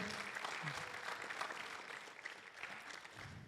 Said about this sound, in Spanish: Give an applause to the Lord.